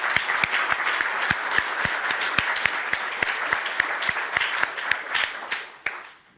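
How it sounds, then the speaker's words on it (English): An audience at a university libraries panel claps steadily in a dense, sustained round of applause, which then trails off and fades at the end. "Let's give them a round of applause for this."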